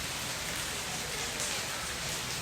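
Rain falls steadily outdoors, an even, soft hiss of drops on surfaces that continues without pause and with no one talking.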